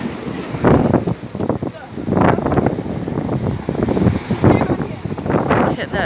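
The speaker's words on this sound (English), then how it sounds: "Look at the huge waves." Large waves surging and water pouring over the shore in strong wind during an Auckland North Shore flood, with loud rushing bursts and heavy wind buffeting on the microphone.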